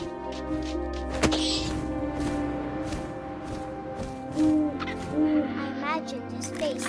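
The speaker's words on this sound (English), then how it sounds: "And suddenly, I was an owl." An owl hoots in the video game What Remains of Edith Finch, low hoots rising over a windy ambient bed, with a few soft thuds and a narrating voice over the scene.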